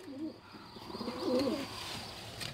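A male pigeon coos in a loft while defending its territory, giving soft, low, throaty calls at a moderate distance over a faint background hum.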